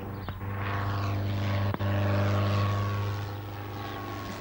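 A propeller-driven training airplane's engine drones loudly and steadily nearby after restarting, with a brief dip partway through before the steady hum carries on and gradually fades.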